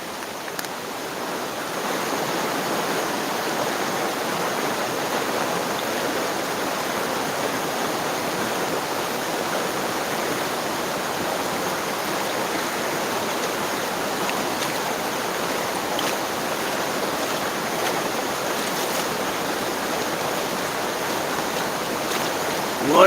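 Steady broadband rush of creek water flowing nearby, constant and even for the whole stretch with no voices over it.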